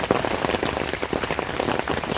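Heavy rain pours onto a garage drainage area, a dense, steady hiss of drops spattering on hard surfaces, loud and close without a break.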